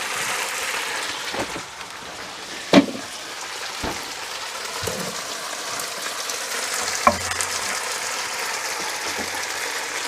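Mustard sirloin chops frying in a non-stick pan, a steady close sizzle with occasional clacks of a utensil moving the meat, no talk.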